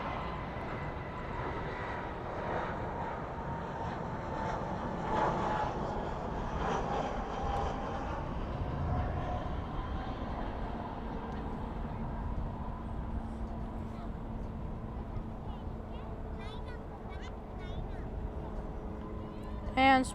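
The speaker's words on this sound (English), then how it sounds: "And the A320 for Delta's coming in here." A Delta Airbus A320 lands at Dallas/Fort Worth at night, a broad engine rumble droning steadily at moderate distance while a person talks over it.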